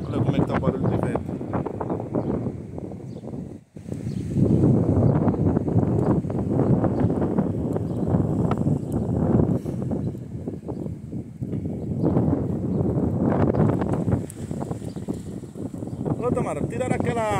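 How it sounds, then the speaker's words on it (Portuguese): Strong coastal wind on the north coast of Santa Catarina, roaring and buffeting the microphone continuously as a person talks over it, with one brief dropout partway through. "Olha como é que tá o barulho de vento."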